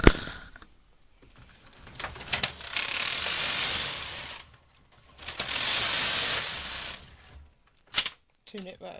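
A knitting machine carriage is pushed across the needle bed twice, knitting two plain rows for hand-manipulated lace. It makes two long, loud mechanical swishing and clattering passes, separated by short quiet gaps and followed by a few light clicks.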